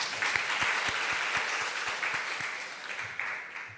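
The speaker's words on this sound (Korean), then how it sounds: "다시 격려 박수 한번." A church congregation gives a round of encouraging applause, with distinct rhythmic claps at the front over a broad, moderately quiet wash of hands that tapers toward the end.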